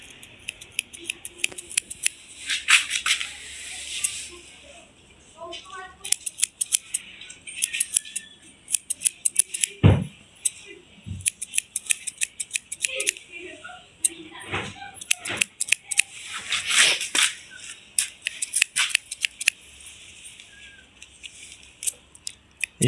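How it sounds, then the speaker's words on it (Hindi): Scissors snip through hair during a one-side slope haircut at home, with quick clustered metallic clicks in bursts and pauses, close up, while someone talks throughout. "कैंची से दोस्तों बालों को मिला लेंगे।"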